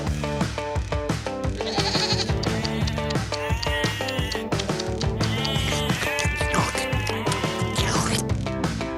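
Several goats bleat repeatedly over a constant busy background, the calls overlapping and fairly close.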